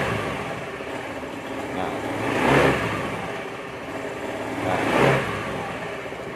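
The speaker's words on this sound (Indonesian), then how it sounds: "Kalau kita gas langsung itu dia berebet. Nah, walaupun kita gas pelan, dia tetap berebet guys." An automatic scooter with a weak, leaking fuel pump revving twice as the throttle is opened, each rise rough and uneven before dropping back to a low running engine note, close up, with a brief spoken word.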